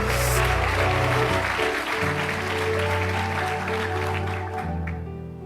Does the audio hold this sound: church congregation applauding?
yes